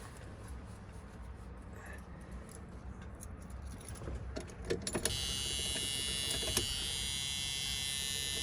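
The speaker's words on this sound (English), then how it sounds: "Has the key warning buzzer." Keys rattle and clatter, then a 1974 Dodge Monaco's high-pitched key warning buzzer switches on and sounds continuously to the end.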